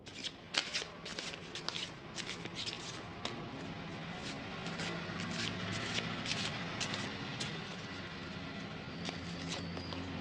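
A deck of angel number oracle cards is shuffled and a card is drawn, with a quick run of crisp riffling flutters and snaps followed by softer steady card rustling, close and fairly quiet, with no talking.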